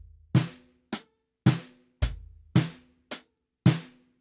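A Donner BackBeat electronic drum module plays a simple rock groove, with seven crisp, evenly spaced drum hits that alternate kick-heavy and snappier strikes, each decaying quickly into silence. The hits are close and fairly loud, with no talking.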